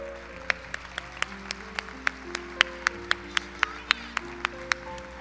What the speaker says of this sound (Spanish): Un fuerte aplauso para nuestros graduados.